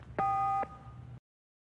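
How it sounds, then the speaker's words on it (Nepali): A telephone gives a single clear tone of about half a second while a phone call is being placed, followed by a softer hum before the line goes silent. "म फोन गरेर बोलाउँछु नि त"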